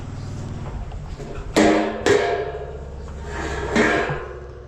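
Hammer strikes ring out while a ceiling is being removed, three or four sharp, loud impacts spaced irregularly over a low background hum.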